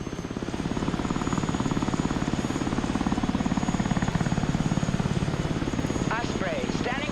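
A V-22 Osprey tiltrotor in the war game Broken Arrow gives a steady, pulsing rotor drone throughout, with game voice callouts spoken over it.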